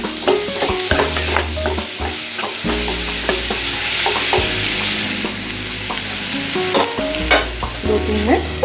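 Soya chaap stirred repeatedly in a frying pan with vegetables and spices, rhythmic spoon scrapes and clinks over a steady loud sizzle, no talking.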